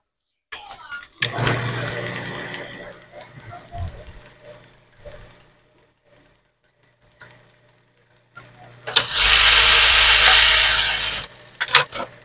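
A 781 buttonhole sewing machine with a broken cutter and a newly fitted wiper stitches a buttonhole, a loud, steady mechanical whir lasting about two seconds near the end, with quieter machine noise and a voice speaking earlier.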